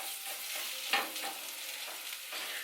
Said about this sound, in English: your meat's going to start cooking now